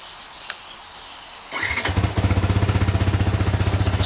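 A 2025 Yamaha Vixion motorcycle fires up on its electric starter after a brief click, then settles into a steady, rapid, close idle thrum that continues alone.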